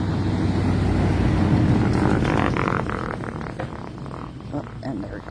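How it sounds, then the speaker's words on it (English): A car drives along a busy road, a broad rumbling whoosh that swells and then fades as it passes, with someone speaking over part of it. "Just gonna wait for this car to go by."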